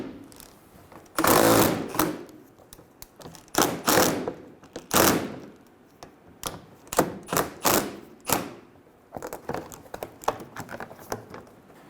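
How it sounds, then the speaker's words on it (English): Ratcheting and clicking of a tool backing out a 10mm bolt at the corner of a 2003-2008 Honda Pilot front bumper cover, a long irregular series of close rattling bursts with brief pauses. "Remove the 10mm bolt at the corner of the bumper."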